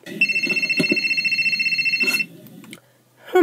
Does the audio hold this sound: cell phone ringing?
yes